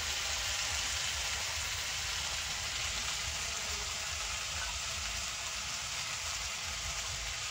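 Green chilli tempering sizzles in oil over a clay stove, a steady, dense hiss that stays even and unbroken from start to finish, with no voices.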